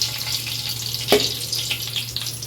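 Whole biryani spices, fennel among them, sizzle in hot oil for a tempering: a steady close frying hiss with one sharp crackling burst partway through, no voices.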